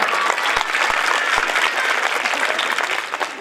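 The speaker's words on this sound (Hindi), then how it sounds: "तालियां।" Listeners at a Hindi poetry gathering (kavi sammelan) break into applause, loud dense clapping from a crowd with a few sharp low thumps early on, continuing steadily.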